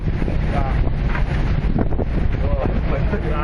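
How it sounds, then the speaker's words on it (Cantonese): Strong wind and spray batter a boat riding a rising swell on the open sea near a South China Sea oil field, a constant loud roaring rush close to the microphone, with no clear break throughout. "成架艇都係風雨啊！"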